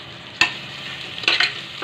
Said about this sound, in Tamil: இந்த ஆனியன் வந்து நமக்கு என்ன ஆகணும்னா நல்லா கோல்டன் கலர் ஆகணும், அதுவரை நம்ம ஃப்ரை பண்ணணும்